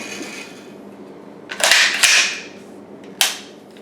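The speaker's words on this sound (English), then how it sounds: "Take the mag out." A magazine being removed from a CZ-805 Bren PS1 pistol: a few sharp metallic clicks and clacks, close and loud, in an uneven group of three, with quiet pauses between and no voices.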